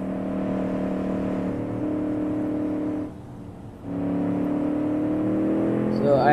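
A small car in the Automation game drives with a steady droning engine note, briefly cutting out as the throttle lifts, then rising again into a higher revving pitch near the end.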